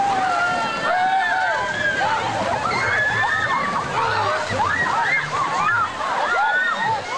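Crowd plunging into icy harbour water at a New Year's Day dip, with steady sloshing and splashing beneath loud overlapping shouts and excited voices throughout.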